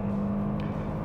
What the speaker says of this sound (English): We're going to accelerate onto the highway, and you can see the car will get up and move.